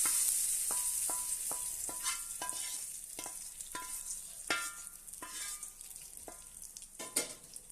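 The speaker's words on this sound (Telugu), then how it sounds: "వేడి పోపు దీంట్లో వేసుకోండి." Hot tempering with red chillies sizzles as it is poured into a bowl of coconut chutney, crackling in a series of sharp spits and pops over a steady hiss, close by with no talking.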